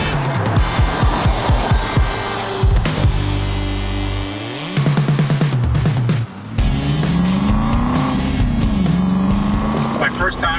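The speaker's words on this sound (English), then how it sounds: "It's my first time driving an Aston Martin V12 Vanquish, and this thing runs like garbage." An Aston Martin V12 Vanquish that is running poorly drives with its V12 engine droning loud and close, its pitch climbing and falling as it revs, while people talk over it.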